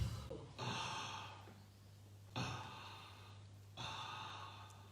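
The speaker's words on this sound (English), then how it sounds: "when you keep on breathing in" Three long, airy inhalations during Om Ah Hung breathing yoga. Each starts with a sharp rush, then fades slowly, with quiet pauses between them.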